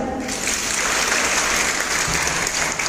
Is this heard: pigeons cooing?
no